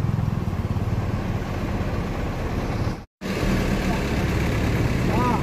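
Box truck with a 110 PS engine on a road, a steady loud engine drone and rumble continuing throughout, broken by a brief dropout just after the midpoint.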